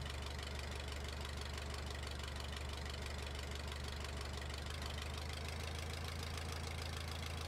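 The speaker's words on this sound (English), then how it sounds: "Nice good old diesel engine." Diesel engine of a tracked demolition robot idling, a steady knocking drone that runs loud and unbroken throughout with no talk.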